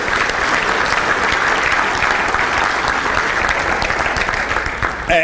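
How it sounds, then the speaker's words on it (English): Audience applause fills a room at a chamber of commerce breakfast, a dense, sustained clapping from a large crowd, loud and steady for about five seconds before fading slightly at the end. "So give yourselves all a round of applause this year."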